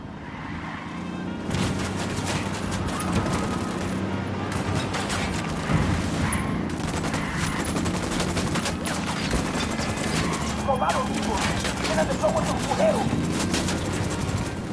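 Sustained gunfire in the Ghost Recon video game, a dense run of shots and bursts over a steady background rumble for nearly the whole stretch, with voices talking over it.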